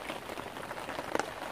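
Rain falls at a fishery while out catfish fishing, a soft steady patter of drops with one sharper tap, faint and close, without talk.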